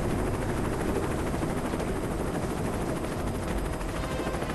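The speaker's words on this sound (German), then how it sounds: "Oh, ein Heli." Steady, loud rotor chopping of a helicopter in LifeAfter, continuous throughout with a dense mechanical rumble and no voices.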